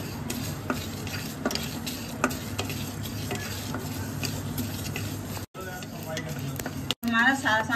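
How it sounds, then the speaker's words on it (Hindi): Fenugreek, mustard seeds, coriander seeds and dried red chillies dry roasting in a pan, giving a steady close sizzle with scraping stirring and light ticks throughout, cut by two brief dropouts near the end. "आधी चम्मच मेथी, एक चम्मच राई, एक चम्मच साबुत धनिया, चार पांच मिर्च सूखी, और उसको अच्छे से हम रोस्ट कर लेंगे"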